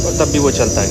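Crickets chirping at night on a dark road, a steady shrill insect trill running throughout beneath a person speaking.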